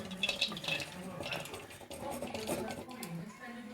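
Chopped onions are stirred in a pot with a wooden spatula, giving soft scraping and clattering under faint sizzling. A voice talks over it.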